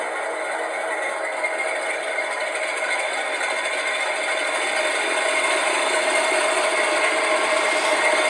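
Hornby Class 47 model locomotive sound unit playing diesel engine thrash, a steady loud droning roar with a rattly edge that holds level for eight seconds, no voices over it.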